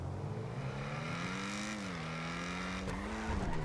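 The Ocelot Jugular car in GTA 5 Online holds a steady engine drone that climbs in pitch, drops briefly at a gear shift, then rises again, with a louder surge at the end.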